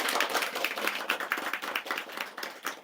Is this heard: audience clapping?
yes